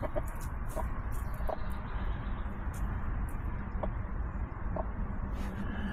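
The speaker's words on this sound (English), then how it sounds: "All roosters." Roosters kept in a backyard flock cluck and call softly at a distance, with a steady outdoor hum underneath.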